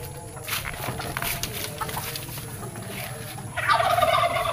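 Turkeys gobbling nearby in a park where chickens roam, a rapid rattling chorus that swells louder toward the end over outdoor background noise.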